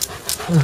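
A dog pants in quick, breathy puffs at close range, a short burst of rapid exhalations.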